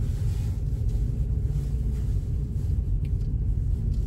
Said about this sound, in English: We're just driving in nice and slowly.